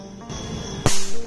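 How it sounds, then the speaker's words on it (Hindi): A charged capacitor, part of a ceiling fan capacitor setup, discharges with a sudden sharp crack of a spark, loud and close, after a brief buzzing hum. "जब एक कैपेसिटर डिस्चार्ज होता है तो ऐसी आवाज़ आती है।"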